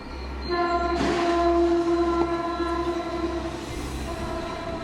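A train rumbles past with a loud, sustained horn blast sounding over the rolling rail noise, close by.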